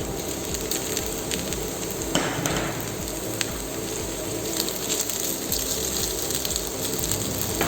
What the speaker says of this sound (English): slow down the heat and add boiled noodles to it